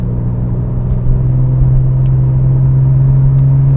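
MKIV Toyota Supra driving along, a loud, steady low engine drone inside the car with a slight shift in pitch as a gear change goes through smoothly, no voices.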